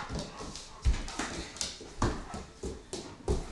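A dog whimpers with short, repeated whines and yips, uneven bursts over a noisy background with occasional thumps.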